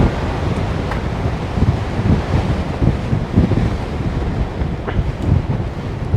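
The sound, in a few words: strong wind on the coast of Gozo, Malta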